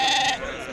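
Sheep bleating briefly at a livestock market, loud and close, mixed with someone talking over the noisy crowd.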